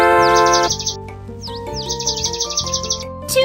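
Cartoon birds chirp in a children's counting video game, with bright repeated tweets over a steady background music track.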